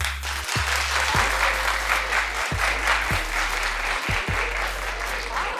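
A television talk-show studio audience claps steadily and fairly loudly, a continuous patter of many hands, while low thumps punctuate it at intervals.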